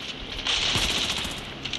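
Automatic weapons fire in the mobile shooter game Scarfall: a rapid burst of rattling shots rises mid-clip and fades, moderately loud with no talk over it.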